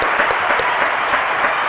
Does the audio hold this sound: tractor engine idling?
no